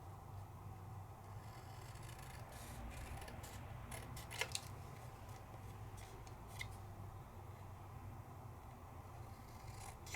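A paper card trimmed with scissors during an embossing and stamping craft session: a few faint, quick snips and clicks over a low, steady room hum.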